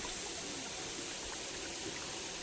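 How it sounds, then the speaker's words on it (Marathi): Quiet, steady trickle of a natural spring seeping near a temple, a soft continuous wash with no voices, faint and even throughout. "हे बघा पाण्याचा झरा कसा झिरपतोय"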